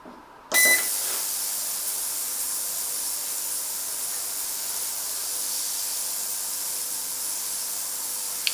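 A VEVOR ultrasonic cleaner machine starts with a short beep and then runs with a steady, high-pitched hissing whine that holds evenly and close, with no talking over it.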